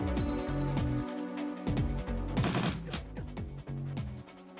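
Gunfire in the video game Shadowrun Returns, a few sharp shots and bursts over a droning game music bed, with no speech.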